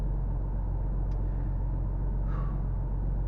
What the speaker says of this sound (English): I would kind of expected it to be louder than this, because I know it's got the aftermarket exhaust on it, plus all the engine mods.